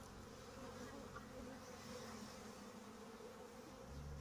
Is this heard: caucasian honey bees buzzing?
yes